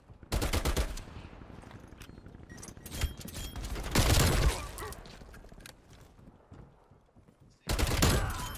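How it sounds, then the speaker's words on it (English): Two players fire on someone in a video game match, producing loud bursts of rapid automatic gunfire that come in bouts, with dense clusters of shots near the start, middle and end and quieter stretches between. "I got two fucking people shooting at me"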